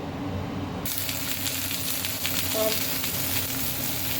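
Chopped onion hits a hot pan for tomato gravy and breaks into a sudden, steady sizzle of frying that continues close and even, with a faint clink partway through.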